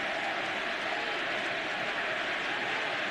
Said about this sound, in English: the crowd starting to chant Eddie